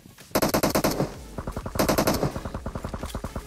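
Automatic gunfire in PUBG Mobile, two long rapid bursts followed by a string of steadier shots, loud and close, with no talk over it.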